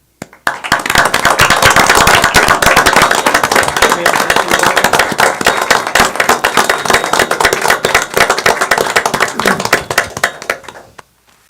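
An audience at an Ascension Parish Council meeting applauds steadily for about ten seconds, a dense, loud patter of many hands clapping that fades out at the end.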